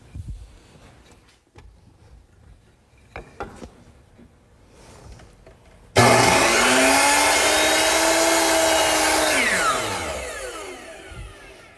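A hand saw cuts through a wood piece in a miter box, starting about halfway through as a loud, steady rasping drone that holds for several seconds and then tapers off, with quiet handling noises before it.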